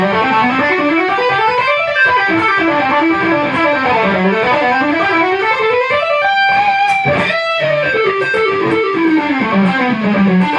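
Electric guitar through a Line 6 DT50 amp in triode mode plays a loud, driven, distorted melodic run, notes sliding up and down continuously for about ten seconds, with no voices.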